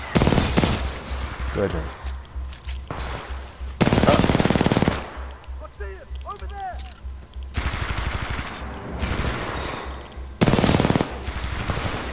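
Sustained loud bursts of machine gun fire in Titanfall 2, several long rattling volleys separated by quieter gaps, with a person talking briefly between the shooting.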